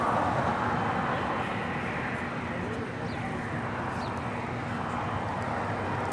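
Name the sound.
Airbus A350-1000 taxiing at LAX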